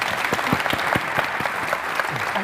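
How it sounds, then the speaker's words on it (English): Attendees at a Labour and civil society summit applaud a panel, giving dense, lively clapping with a few sharp nearby claps standing out from the steady crowd sound. "Please give a round of applause for the panel."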